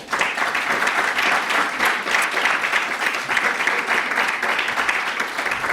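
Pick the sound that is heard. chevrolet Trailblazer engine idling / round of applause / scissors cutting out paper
round of applause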